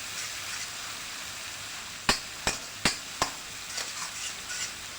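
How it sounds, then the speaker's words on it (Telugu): Spatula strikes a pan in four sharp, evenly spaced taps and then softer scrapes as mutton sherva masala with turmeric is stirred over a steady frying sizzle. "మరోసారి కలపండి."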